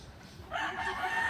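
A fighting rooster at a cockfighting training ground crows once, close and fairly faint, a short rising call that starts partway in after a brief low rumble.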